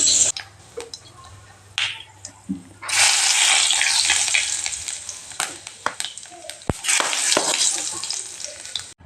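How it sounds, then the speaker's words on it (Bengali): Whole cumin seeds crackle in hot oil in a wok, opening with scattered taps and knocks before a loud, dense sizzle swells and holds, then fades and returns with sharp spits and pops. "জিরেটা আমি একটু তেলের মধ্যে হালকা করে ভেজে নিলাম।"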